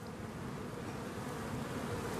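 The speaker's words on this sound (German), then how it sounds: "Heute wollen Mirko und Hartmut zum ersten Mal nach der Winterruhe ihre Bienenstöcke öffnen" Honey bees buzzing densely around opened beehives after winter, a steady, continuous hum at low level with no voices.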